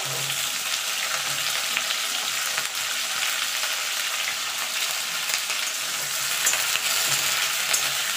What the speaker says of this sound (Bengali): সিমটা আলুটা একসঙ্গে আমি ভেজে নেব।